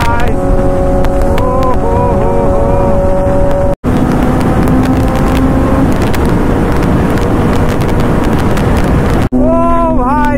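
Kawasaki ZX-10R motorcycle at speed, with loud, steady wind buffeting the microphone and a continuous engine drone throughout, briefly cutting out twice; voices talk over it.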